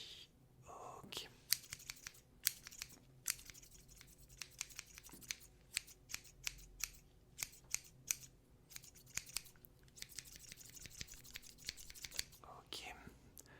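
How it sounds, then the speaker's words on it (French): Premium hairdressing scissors snip hair at the side of the head in quick close crisp clusters of cuts, repeated steadily across the scene, with soft whispered talk and light rustling in a quiet room. "je vais dégager un peu les cheveux sur le côté avec mes ciseaux de qualité supérieure"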